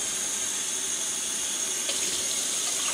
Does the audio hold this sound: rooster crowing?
no